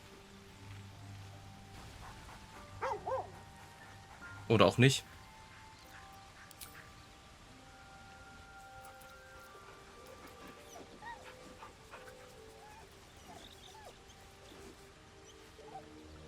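A dog in the video game Baldur's Gate 3 gives a couple of brief whimpering yelps and barks, one short pair followed by a louder burst, over quiet game ambience and faint talk.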